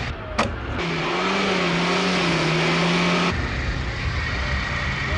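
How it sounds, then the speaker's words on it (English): Car accelerating with its gas pedal jammed, the engine snarling louder and rising in pitch after a brief sharp whine, then shifting abruptly to a strained, steady drone. "I've taken my foot off the gas pedal, but we're still accelerating"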